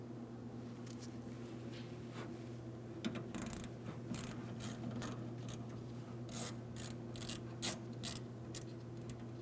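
A ratchet with a 1/4 inch socket loosens a hose clamp on the fuel tank of a 2007-2014 GMC Sierra 2500 HD 6.0L V8, quiet repeated clicking strokes over a low steady hum.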